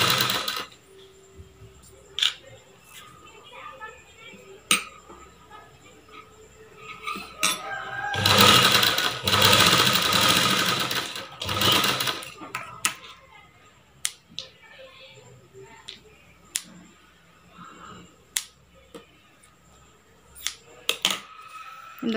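A sewing machine stitches a blouse neckline in a short steady burst of rapid mechanical whirring, framed by scattered clicks and fabric handling, with someone speaking at times.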